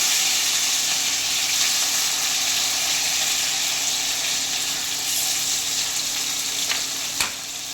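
Small onions, garlic and tomatoes fry in a pan for a fish curry with a loud, continuous sizzle. A sharp stirring clack comes near the end, and no one speaks.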